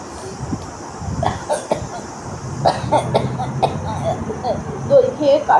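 A person coughs a few times in short, rough bursts, close up, and a voice carries on around the coughs.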